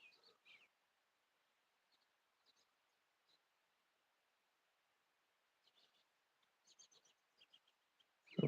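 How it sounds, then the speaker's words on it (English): Faint, distant red-winged blackbird calls at sunrise, a few sparse chirps scattered across near silence, followed by a brief louder close-up bump at the very end. "Red, red wing blackbirds for you bird aficionados."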